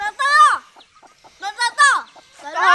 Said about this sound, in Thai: ไก่มาแล้วเย้ ไก่มาแล้ว